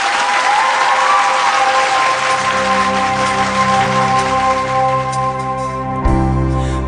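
Loud, dense audience applause fills a televised singing competition for a singer, then fades as sustained piano and music tones rise underneath and take over near the end.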